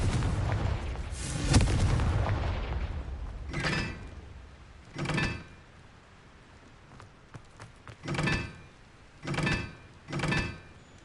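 Spell casts of Incendio and Confringo in the Hogwarts Legacy video game: a long loud whooshing blast at the start, then several short booming bursts spaced a second or two apart, with no talk.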